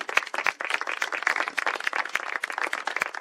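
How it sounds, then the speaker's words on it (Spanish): Small audience at a community talk in a village setting applauding together, dense steady clapping from a modest crowd, close and continuous throughout without voices. "un aplauso con nosotros"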